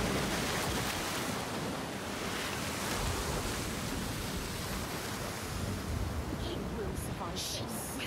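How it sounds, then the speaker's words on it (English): Steady ocean surf washes onto a rocky beach in Senua's Saga: Hellblade 2, a continuous windy roar of breaking waves held at an even level throughout. "I might not survive this if the waves keep frickin' throwing us against the rocks."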